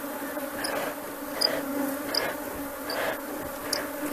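A large swarm of Apis honey bees buzzing together in a steady, dense drone, with individual bees flying close past the microphone now and then, and no voices.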